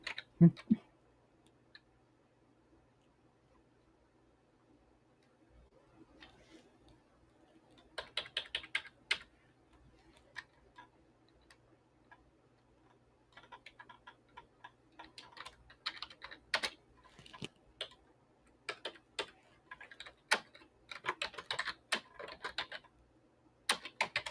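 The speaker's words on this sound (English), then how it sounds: "I'm typing slow." Slow typing on a computer keyboard, with irregular bursts of close, crisp key clicks separated by pauses, growing busier toward the end, plus a brief knock at the start.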